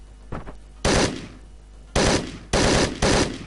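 Gunfire in the video game Hotline Miami 2: a single short shot followed by three loud, sharp bursts of automatic fire spaced about a second apart, close and punchy, with no talk over them.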